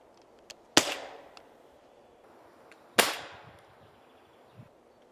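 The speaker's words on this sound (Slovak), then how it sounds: "Prvý výstrel máme za sebou" Two sharp, loud shots from a JPX non-lethal bear defense gun ring out a couple of seconds apart, each with a short echoing tail, against a quiet outdoor background.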